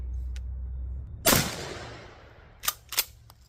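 Remington 870 Express Magnum 20 gauge shotgun firing outdoors while patterning for squirrel hunting, one sharp loud blast with a decaying echo, followed by fainter distant cracks.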